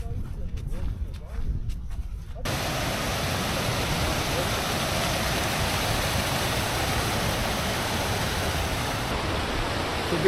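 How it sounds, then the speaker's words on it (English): A river rushes steadily beside the Cape Wrath Trail, a loud, close, unbroken roar that takes over after a few seconds of quieter outdoor sound and carries on to the end. "We've been walking alongside this river for about a quarter of a mile, trying to find somewhere to cross."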